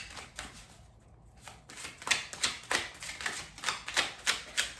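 Tarot cards shuffled close up, a quick rhythmic series of crisp riffling slaps that grows louder and more regular after a quiet start, with no voice.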